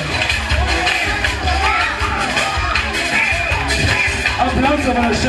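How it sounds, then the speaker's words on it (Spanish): A crowd at a lively show in Argentina yells, whoops and cheers in a dense, loud wash, with shouting voices mixed throughout. "Ahora sí, aplauso para Jackson."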